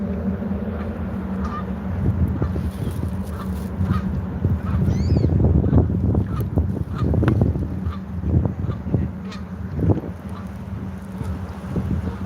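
Geese honking outdoors in a city setting, a loud cluster of calls over steady wind noise on the microphone, with no talking.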